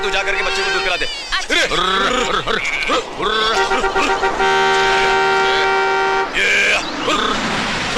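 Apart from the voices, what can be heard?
vehicle horn honking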